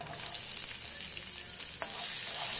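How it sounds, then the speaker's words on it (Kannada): Chopped onion goes into hot oil with frying cinnamon, cloves and cardamom, giving a dense steady sizzle that swells slightly near the end, with a brief clink partway through. "ಒಂದು ಸ್ವಲ್ಪ ಇದನ್ನು ಸೇರಿಸ್ತೀನಿ ಇಲ್ಲಿ"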